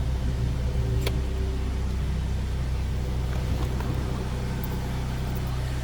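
A stock-exhaust 2007 Pontiac Solstice engine runs at a steady idle, giving a continuous, close low rumble with an even pulsing tone and no revving or voices.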